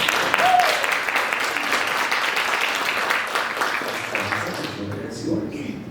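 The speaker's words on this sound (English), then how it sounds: "Please give her a round of applause." A round of applause from an evening audience at a policy and advocacy talk, steady at first and then thinning out, with a voice beginning to speak as the clapping fades.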